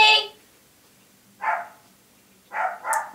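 A dog barks from downstairs in a home, three or four sharp, mid-distance barks separated by short pauses, with no talking over them.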